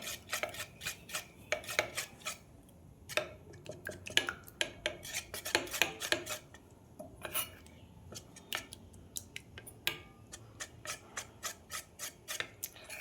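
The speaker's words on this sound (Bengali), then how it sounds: "ভালো করে এটা মিশিয়ে নেব।" A spoon scrapes and clinks against a bowl while patishapta batter is stirred with food colouring, giving irregular bursts of sharp taps and rubbing with short pauses between strokes.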